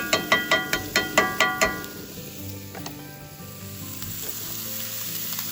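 Onions and wieners fry in a cast iron pan on an outdoor barbecue turned to low, opening with a quick run of metallic utensil taps against the pan before settling into a soft, steady sizzle.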